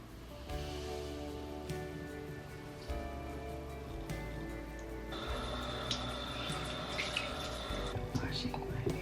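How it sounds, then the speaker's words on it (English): Steady running water pours from a sink tap during face washing in a morning routine, a continuous close splash with brief shifts as hands move through the stream, and a voice speaking faintly underneath. "Washing my face."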